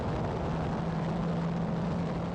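Aerobatic aircraft performing maneuvers make a loud, steady engine drone with a constant low hum that holds for a couple of seconds, with no voices.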